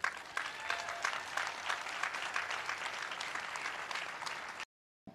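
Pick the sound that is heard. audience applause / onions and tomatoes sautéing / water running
audience applause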